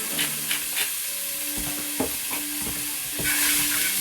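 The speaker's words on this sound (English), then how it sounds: "So keep stirring it until your onion's brown." Salted onion frying in a pan gives a steady close sizzle, with a wooden-sounding stir scraping through it every half second or so.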